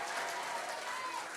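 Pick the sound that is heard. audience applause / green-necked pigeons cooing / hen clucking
audience applause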